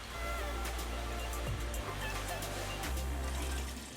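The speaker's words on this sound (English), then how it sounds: "Wash the rice a few times, mixing it lightly." Rice being washed by hand in water for pilaf, mixed lightly, a steady close sloshing and swirling of water with low rumbling churn running throughout, no voices.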